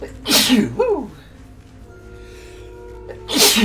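A person sneezes twice, one sharp burst near the start and another at the end, close and loud, with a short vocal exclamation between them.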